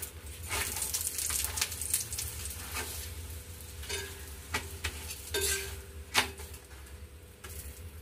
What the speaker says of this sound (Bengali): পরোটাগুলো ভাজা হয়ে গেছে, খুব বিশেষ তেল দেবো না, হালকা তেলেই ভাজবো